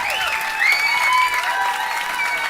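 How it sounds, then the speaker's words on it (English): A comedy club audience at the Comedy Store claps and applauds steadily, with cheering and whoops rising over the dense clapping throughout. "Give a huge round of applause for Sean Patrick, ladies and gentlemen."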